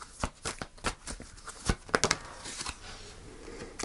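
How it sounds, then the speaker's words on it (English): Tarot cards are shuffled by hand in quick, soft riffling bursts, followed by a few crisp flicks and snaps as a card is drawn. The sound is close and quiet. "Let's pull a final card for you."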